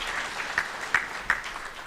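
Audience applause at a Tanzania–South Africa business forum, a steady wash of clapping with a few sharper individual claps standing out, moderately near and without speech.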